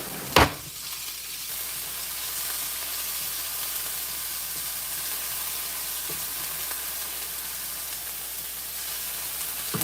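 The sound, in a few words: shallots and jalapenos frying in a pan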